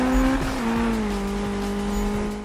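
A racing car in Need For Speed on nitrous boost, climbing a hill: a steady, loud engine drone with sliding, shifting pitch and a tire squeal or two, heard alone without talk.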